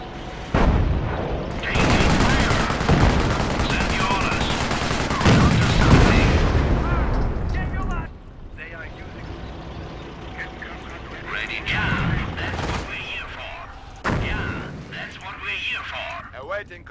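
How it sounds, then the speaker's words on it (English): Hummel self-propelled howitzers lay an artillery barrage on a city in Company of Heroes, with dense, heavy rolling blasts and crackling fire that swell and ebb over many seconds while voices talk. "Let's dump some random artillery in the city"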